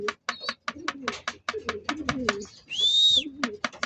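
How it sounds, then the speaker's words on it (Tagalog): Hungry pigeons coo and flutter in short, close bursts, with one high whistling call, while someone talks quietly under the birds. "Gutom na sila mga kaibon."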